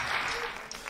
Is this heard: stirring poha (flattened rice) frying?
no